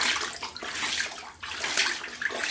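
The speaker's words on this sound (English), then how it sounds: "The waves started to rise." Sloshing, splashing water surges in uneven swells like a filling tub, used as a wave sound effect for a storm at sea, close and continuous with no voices.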